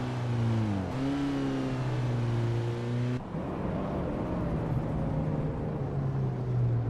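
A 1987 Mitsubishi Galant 444 revs hard in a racing game, its engine note climbing, shifting and climbing again in a steady drone, with a rougher, noisier roar after a gear change.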